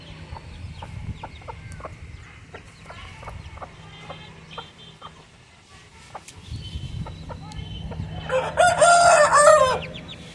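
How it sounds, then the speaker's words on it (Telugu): Rasangi double-body chickens cluck and call softly in the background at first, then a rooster lets out one loud, close crow near the end, with steady low farmyard noise throughout. "రసంగి డబుల్ బాడీ పిట్టలు"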